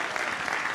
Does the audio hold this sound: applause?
yes